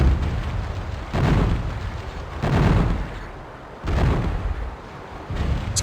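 Cannon fire in a pirate ship battle game booms in three or four heavy, rumbling blasts about a second apart, each swelling and fading into a continuous low roar of sea and battle noise.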